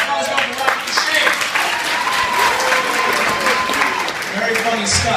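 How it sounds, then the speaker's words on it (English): Comedy club audience applauds on a Friday night, a dense, sustained burst of clapping from a crowd, with cheering and voices mixed in throughout. "Let's get a big round of applause for Duchaine."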